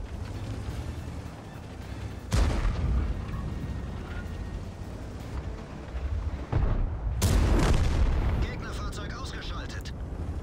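Two loud, booming cannon shots from a tank in the video game World of Tanks, driven as an IS-M heavy tank. The blasts land several seconds apart over steady battle ambience, with a voice talking in the background.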